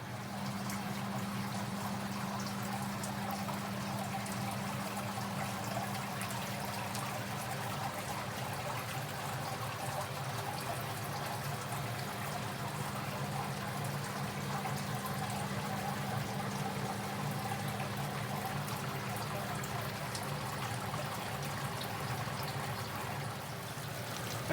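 Hot sparge water pouring and trickling steadily over a grain mash during a home beer brew, a continuous close liquid wash with a faint low pump-like hum underneath and no talking.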